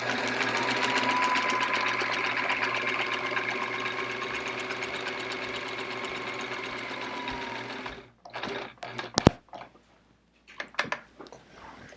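A sewing machine quilts in the ditch on a chevron quilt with a steady, close, buzzing drone for about eight seconds, then stops, followed by fabric handling and a few sharp clicks.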